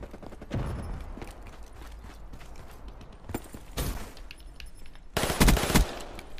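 Video game gunfire in a gun-game match: bursts of rapid shots near the start, a sharp volley near four seconds and a louder, denser burst near the end, with quieter ambient clatter between.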